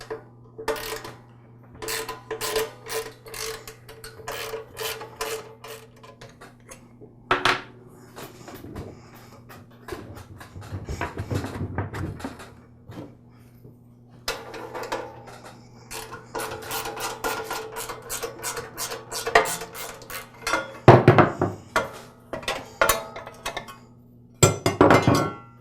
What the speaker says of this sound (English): And now I can remove those bolts.